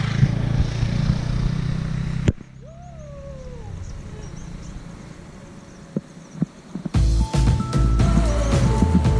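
Superbike motorcycles ride past outdoors in a hilly natural area, with loud engine roars at the start and again near the end and a quieter lull in between.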